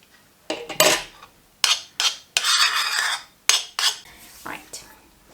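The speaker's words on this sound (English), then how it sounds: "I'm mixing with a spoon" A spoon and fork mixing in a bowl, a run of close, loud clinks and scraping strokes in uneven bursts with short pauses between them, no voices.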